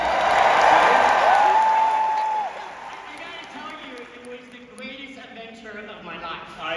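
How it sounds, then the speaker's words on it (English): A large crowd at the D23 Expo cheers and applauds loudly for Indiana Jones, then the noise fades out as a voice begins speaking. "by the sounds of the crowd, we have some fans here"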